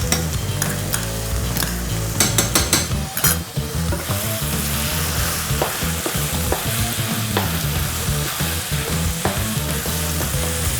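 Butter and tomato paste fry and sizzle steadily in a pan for chili nachos, with bright scraping clatters of stirring near the start, then a continuous loud sizzle with occasional utensil scrapes, no talking.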